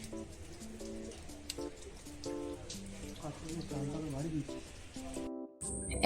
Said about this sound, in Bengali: এখনও বেশ ভালো ভারী একটি বৃষ্টি হয়ে গেল বৃষ্টি এখনও হচ্ছে তবে একটু আসতে